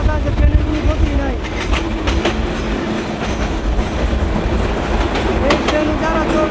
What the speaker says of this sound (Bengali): এই ট্রেনের গতি অনেক বেশি